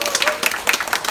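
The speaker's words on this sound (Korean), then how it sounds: "우리 마드테스 찬양팀에게 박수 한번 쳐주세요" A youth worship service audience applauding the church's worship team, a short burst of clapping with a speaking voice heard over it.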